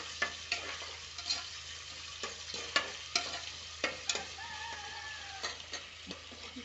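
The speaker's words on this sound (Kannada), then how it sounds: "ಈಗ ನೋಡಿ ಕ್ಯಾಪ್ಸಿಕಮ್ ಹಾಕ್ತಾ ಇದ್ದೀನಿ. ಇದೊಂದು ಫ್ರೈ ಆಗಬೇಕು." Capsicum, onion and tomato fry in a pan for a chicken pepper fry, with a soft continuous sizzle and frequent sharp spatula scrapes and taps against the pan, close up and with no talk.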